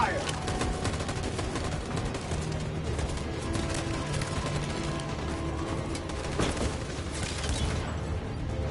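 Volley of gunfire in a video game battle, dense overlapping shots and crackling bursts over a steady low rumble, loud and continuous.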